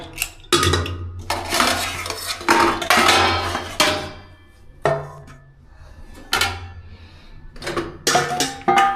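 Cooking pots and metal utensils clatter and clank in a series of loud, irregular bursts with short pauses between, close by, with no talking.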